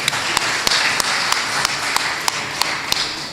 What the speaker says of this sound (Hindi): मैं चाहता हूँ कि एक बार आपके लिए एक ज़ोरदार तालियाँ बजाइए